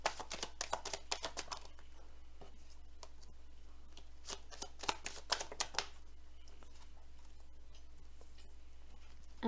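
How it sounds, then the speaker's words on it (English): Tarot cards being shuffled by hand, bursts of quick crisp riffling flutters and soft slaps coming in clusters with short pauses, close and quiet. "this is going to be the shuffling part of your reading"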